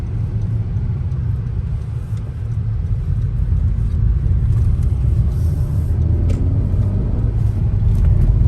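Cabin drone of a 2021 Honda Civic Sport hatchback under way, its 1.5-liter direct-injection turbocharged engine a steady low rumble with constant road noise and no talking.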